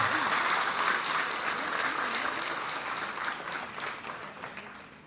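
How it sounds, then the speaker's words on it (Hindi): An audience claps loudly to welcome a speaker at a Bhimrao Ambedkar Jayanti event held by Apna Dal (S) in Shahjahanpur, with dense sustained applause that slowly fades. "मैं एक बार चाहूंगा मेरी अपेक्षा पे जोरदार ताली से इनका स्वागत करिए"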